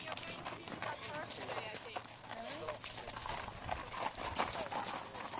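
Horses walk on a ranch cattle drive, their hooves clopping in an uneven rhythm close by, mixed with outdoor noise while a person talks over them.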